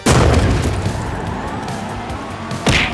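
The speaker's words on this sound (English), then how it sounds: "At the explosion of the grenade, okay, you ready?" A grenade blows up in GTA 5 with a loud, close boom at the start, rumbling debris and engine noise trailing after, then a second sharp burst near the end.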